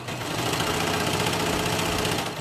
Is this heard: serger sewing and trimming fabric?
yes